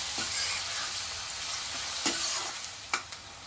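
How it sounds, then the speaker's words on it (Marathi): Onion frying in oil in a home kitchen pan with asafoetida and curry leaves, a steady close sizzle with a few sharp scrapes of a spoon stirring through it. "मी पहिला कांदाच घालते तेलावरती नंतर हिंग घालते असं केल्याने हिंग जळत नाही कढीपत्ता घालते"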